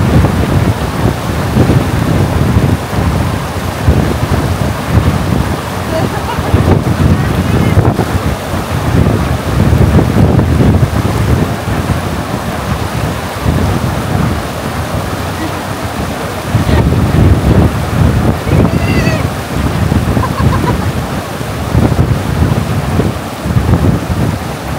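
Strong gusty wind in Banff National Park buffets the microphone in loud, rumbling bursts that swell and ease, with faint voices underneath.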